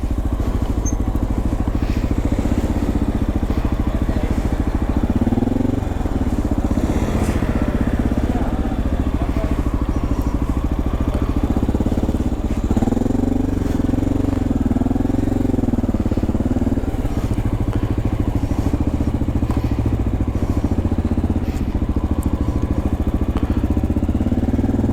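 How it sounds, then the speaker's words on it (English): A motorcycle engine runs continuously on a city street, a loud, close mechanical drone with slight rises in revs throughout. "when I'm running my bike on the street"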